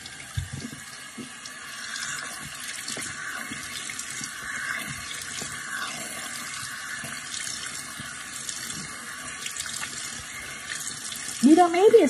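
A sink faucet runs steadily with warm water, a constant close splashing stream that lasts throughout, with faint talk underneath and a brief louder clatter near the end.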